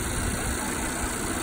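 A 2019 Volvo S90 V6 engine idles, giving a short, steady, even hum with a faint vibration and no revving.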